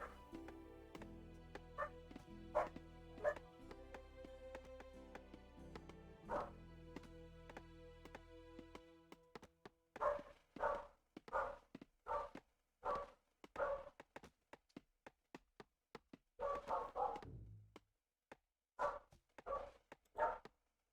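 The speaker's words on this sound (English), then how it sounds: "The dogs barking in the street is quite irritating." Dogs bark out in the street in a run of sharp, separate woofs and yips, fairly close and loud. Earlier on, a sustained musical tone plays underneath them.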